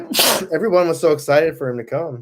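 A person sneezes once, loud and close, at the start, followed by a voice speaking in a lively indoor watch party for a Monday night football game.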